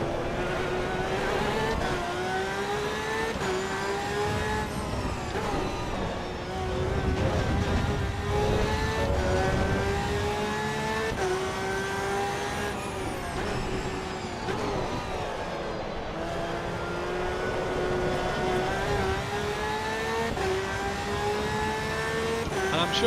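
A Porsche engine revs and shifts through gears in a racing video game, loud and continuous with rising and falling pitch as it accelerates and brakes, plus occasional faint background engine noise.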